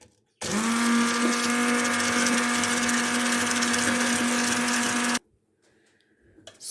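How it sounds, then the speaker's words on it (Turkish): A blender whirs loudly for about five seconds while puréeing a garlic and olive oil sauce seasoned with salt and red pepper flakes, then cuts off, leaving near silence. "Hazırlamış olduğum bu sosu güzelce blenderdan geçireceğim."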